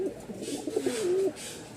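A pigeon, one of a pair offered for sale, gives a single close, rolling coo of about a second, with soft background noise around it.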